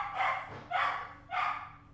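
A dog barks three times at an even pace, moderately close but fairly quiet, with short pauses between barks in an otherwise quiet indoor room.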